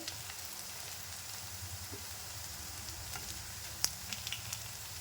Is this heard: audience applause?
no